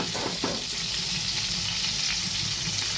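Hilsa fish pieces frying in hot oil in a pan give a steady, close sizzle with a faint scrape near the start and a continuous hiss throughout.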